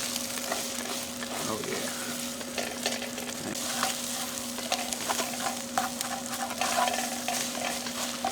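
Scrambled eggs fry in hot bacon grease over an outdoor camp-style fire, crackling and sizzling steadily while a utensil stirs and scrapes them. Someone briefly speaks.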